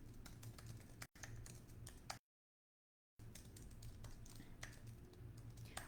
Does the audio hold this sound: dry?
no